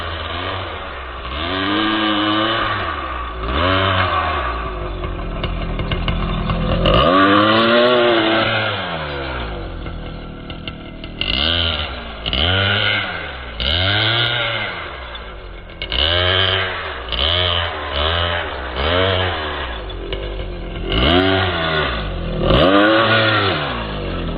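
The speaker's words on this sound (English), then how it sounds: "the Hobao Hyper cage buggy with the Hyper .30 engine, and she was a beast" A Hobao Hyper cage RC buggy with a Hyper .30 nitro engine revs loudly and repeatedly, its high buzzing whine rising and falling in sharp bursts of acceleration, close and alone.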